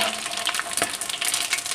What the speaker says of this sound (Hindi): खड़े मसाले सारे मैं ऐड करने लगी इसके अंदर। एक मिनट तक इसे भूनेंगे।